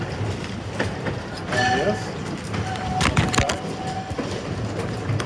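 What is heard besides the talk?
trolley car running on rails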